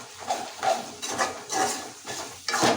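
Chicken and masala are stirred into a fried onion mixture in a pot, producing rhythmic spoon scrapes against the metal, roughly one every half second, over a light sizzle.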